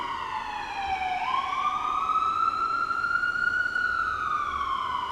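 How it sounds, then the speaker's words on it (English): A siren wails in a long rising and falling tone, clear and fairly close, over a low steady background rumble. "I'll wait for the siren."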